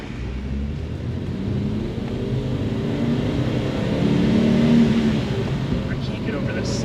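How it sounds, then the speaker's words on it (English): Audi Sport Quattro with a five-cylinder engine drives at steady speed, a low continuous rumble building slightly in the middle and easing off, heard from inside the car with no one talking. "I hope you guys truly enjoy at least a moment of blissful 5-cylinder symphony."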